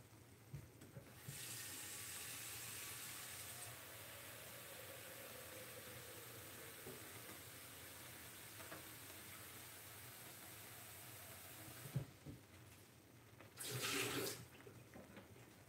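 A kitchen tap runs water into a pan for boiling, a steady close hiss that continues for several seconds, then stops, with a brief second gush near the end.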